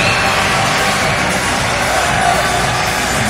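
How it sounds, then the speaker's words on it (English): Arena crowd at the Teqball World Cup applauding and cheering as teams are welcomed, a dense, continuous wash of clapping and whoops, loud and unbroken. "A big round of applause, as you can imagine."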